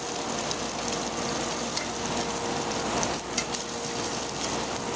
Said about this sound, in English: we got a little deglazing to do in our pan